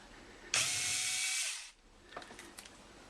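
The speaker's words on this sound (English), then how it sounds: "I switched over to my little electric screw gun." A small electric screw gun whirs loudly for about a second while backing a screw out of a dishwasher, then stops, followed by faint clicks and handling taps.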